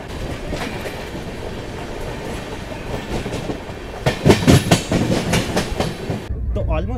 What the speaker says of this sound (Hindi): 2 मिनट का हॉल्ट लेने के बाद हमारे यहाँ से डिपार्चर हो चुका है।